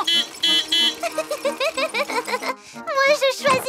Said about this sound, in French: d'appuyer sur le klaxon